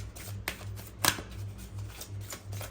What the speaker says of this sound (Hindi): Let me take another card.